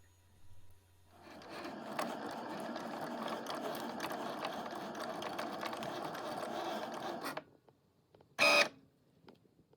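A Cricut cutting machine cutting premium outdoor vinyl at a craft table, a steady mechanical whir and clatter for about six seconds, then quiet followed by one short sharp click.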